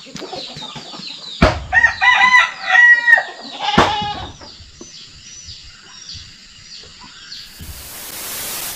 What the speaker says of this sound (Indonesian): Ayam udah pada pulang teman-teman.